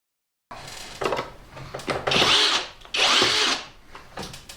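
An Erbauer cordless drill in its second gear whirs in two loud bursts with high-pitched motor whine, preceded by handling clicks and short revs, close by.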